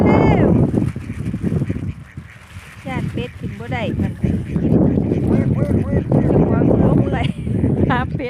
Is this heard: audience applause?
no